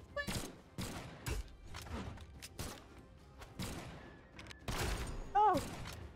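Gunfire rings out in Brawlhalla gameplay as a series of sharp, loud shots and impacts in uneven bursts, mixed with other game effects.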